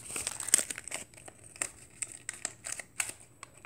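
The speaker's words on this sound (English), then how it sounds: "Put tape right in here, just like that." Tape is pulled and pressed onto a folded paper origami takeout box, giving close, crisp crinkling and rustling in short irregular bursts with quiet gaps between.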